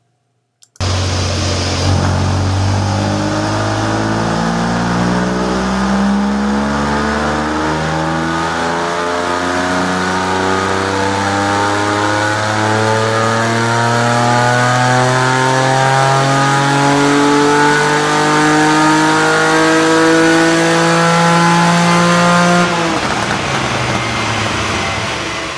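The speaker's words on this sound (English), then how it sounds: "which of course is powered by the legendary Ferrari Dino V6 engine" A car powered by a Ferrari Dino V6 engine revs hard and loud, the engine note climbing repeatedly through rising sweeps, close and sustained for over twenty seconds with no talking.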